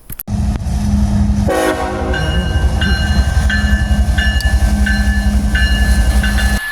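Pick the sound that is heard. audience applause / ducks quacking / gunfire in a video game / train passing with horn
train passing with horn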